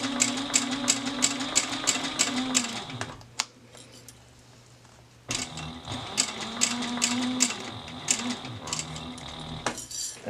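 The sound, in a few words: sewing machine stitching a bag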